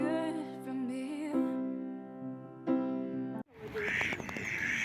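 Several ducks, brown females and differently coloured males, give nasal quacks and squawks outdoors. The calls come in uneven bursts at moderate volume, followed by a noisier stretch of overlapping calls and background sound.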